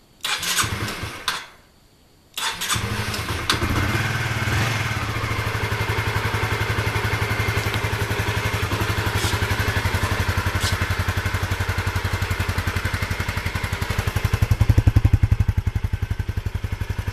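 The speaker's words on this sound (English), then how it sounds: "Okay, so right here we got the 2008 Honda Cbr125r. I'm gonna go ahead and start it up." A 2008 Honda CBR125R motorcycle starting up: a brief cranking whir, a short pause, then the engine catches and settles into a steady, close, rhythmic idle that swells slightly near the end.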